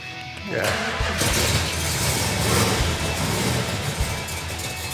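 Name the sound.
Plymouth Cuda V8 engine running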